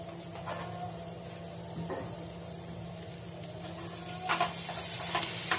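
Matar paneer sizzles in a pan as it is stirred and mixed after salt goes in, a soft continuous frying hiss broken by faint scraping strokes, with no talking.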